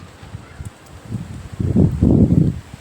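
Strong wind from a rainy village mini-storm rises into loud surging gusts, with leaves rustling and tossing close by.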